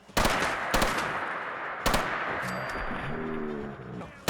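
Bursts of modded-weapon gunfire in Fallout 4, with sharp loud shots clustered at the start, then a short run of shots before the firing stops while a voice talks briefly.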